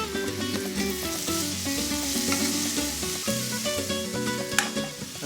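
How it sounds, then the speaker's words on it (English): Beets stirred in a hot skillet that had just been used to cook ancho chiles give off a steady, close frying sizzle with soft stirring scrapes, all under a continuous tonal musical bed. "these beets are going to go into the skillet that we cooked those anchos in. And in just a couple of minutes of stirring,"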